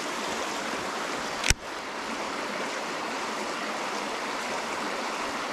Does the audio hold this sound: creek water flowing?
yes